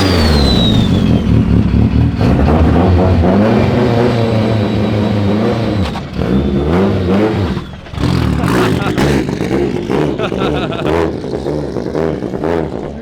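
A fully built, modified Nissan 180SX drives and revs from inside the car, engine rising and falling loudly with sharp gear changes and brief drops in power.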